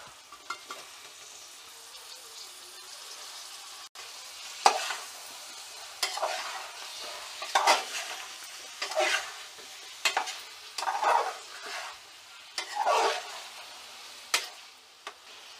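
Chopped raw bananas stirred and fried in a spiced tempering, a steady soft sizzle under repeated scraping spoon strokes in a rhythmic pattern, close and fairly quiet.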